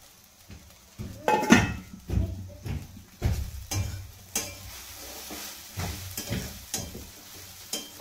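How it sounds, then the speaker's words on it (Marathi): Spoon scraping and stirring a potato mixture with crushed peanuts in a hot pan, irregular scrapes and knocks against the metal over a soft sizzle, close and unhurried. "अशी व्यवस्थित हलवून घ्यायची।"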